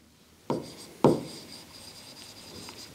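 Accounting entries being written on a board: two sharp taps of the marker or chalk, then a faint scratchy stroke across the surface in a quiet room.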